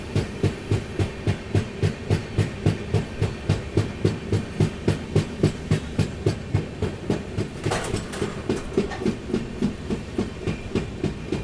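A train pulls into Tumakuru railway station with a steady, rhythmic clickety-clack of wheels over rail joints, loud and close. The beat runs evenly throughout, with a brief hiss or squeal burst near the end.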